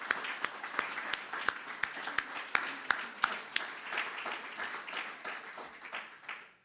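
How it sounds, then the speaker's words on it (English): Room audience applauding supplier partners at a charity golf tournament announcement, a sustained patter of clapping with distinct sharp nearby claps standing out, gradually thinning and fading away. "Please give them a round of applause as well."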